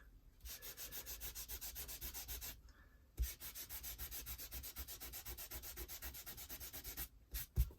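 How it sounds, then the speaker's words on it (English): A wet wipe is rubbed gently back and forth on art journal paper, producing soft rhythmic scrubbing strokes in steady repeated bursts, close and quiet, with a short pause partway through. "I've got a wet wipe here, and if I want just to lift a little bit of that off now, I can just rub it gently"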